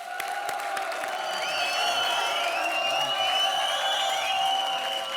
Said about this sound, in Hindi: जोरदार तालियां चंदन और सुशांत के लिए